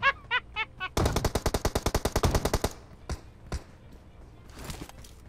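Machine gun fire in the mobile battle royale game PUBG Mobile: a fast, loud burst of about fifteen rapid shots lasting nearly two seconds, preceded by a few short tones and followed by two isolated single shots.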